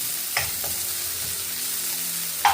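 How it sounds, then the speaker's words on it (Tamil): Ginger and garlic sautéing in a pan, a steady close sizzle with a couple of brief utensil scrapes from stirring, no voices. "இந்த இஞ்சி பூண்டை போட்டுக்கொள்ளுவோம் போட்டுட்டு இது இதில் பச்சை வாசனை போகும் வரை நாங்கள் நல்லா வதக்கி எடுத்துக்கொள்ளுவோம்"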